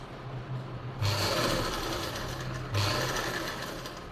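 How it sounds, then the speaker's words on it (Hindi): Sewing machine running a stitch along the edge of a baby frock, in two bursts of rapid, even mechanical clatter with a brief slowdown between them, close up and with no talking. "इसके ऊपर से ही सिलाई लगाएंगे। ये सिलाई भी हम किनारी से ही लगाएंगे"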